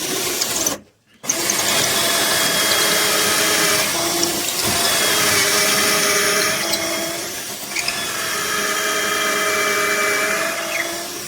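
Power drill boring pocket holes in wood through a Kreg jig set at 1.5 inches, a steady high whine running in two long bursts after a brief pause, close and loud with no talk.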